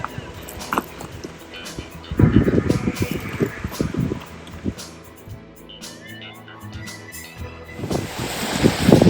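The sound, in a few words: mountain waterfall and flowing water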